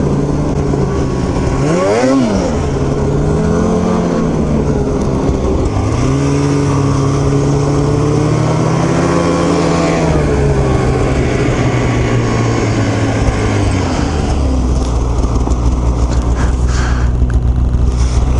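A snowmobile's nitro engine with an aftermarket exhaust revs loudly and continuously, its pitch climbing and dipping through several throttle swells with a raw, rasping exhaust note, close by.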